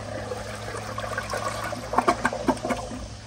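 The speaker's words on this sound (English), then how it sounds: "here is another flush" A 2003 American Standard Champion toilet flushing with a rushing, gurgling swirl of water in the bowl, close and steady, bubbling more as it drains.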